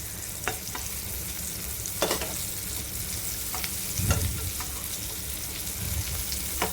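Slices of elephant foot yam (ol kochu) frying in oil in a pan, a steady broad sizzle close up, with a few sharp scrapes as slices are turned and a heavier clatter midway, no talking.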